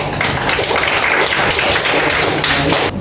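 A steady wash of applause from a group of teachers in a microteaching session, dense and continuous for a few seconds before cutting off abruptly.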